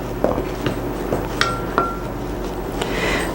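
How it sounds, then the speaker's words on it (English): Salt is mixed into vegan pie crust dough in a bowl, with a utensil clinking sharply against the bowl several times at irregular intervals over low background noise, no talk. "Next I'm going to add my salt. I'm just going to mix this together a little bit."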